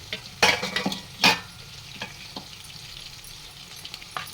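Green chillies, curry leaves and coriander stirred into hot oil in a frying pan for restaurant-style chicken manchuria, giving a few sharp scraping clinks over a soft, steady sizzle.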